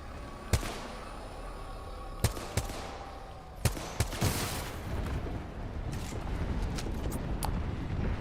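An airstrike in a video game brings a scattered series of sharp explosive bangs and gunfire cracks over a rumbling background, with the blasts spaced irregularly and growing denser toward the end.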